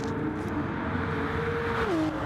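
GT3 and GT4 race car engines in a racing video game drone loudly and steadily, with one engine's pitch rising and then dropping as it revs and shifts.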